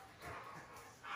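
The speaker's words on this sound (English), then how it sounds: "These dogs are crazy!" Several dogs inside a house make excited yips and whimpering barks against a steady noisy background, with no one talking.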